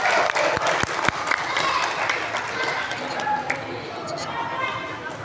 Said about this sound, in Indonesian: Tepuk tangan untuk Birosati